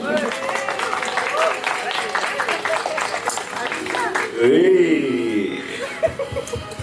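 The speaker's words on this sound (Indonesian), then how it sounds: "Boleh tepuk tangan dulu." At a stand-up comedy show in Cirebon, amused chuckles and laughter ripple through the audience, followed by a burst of applause that swells and then fades.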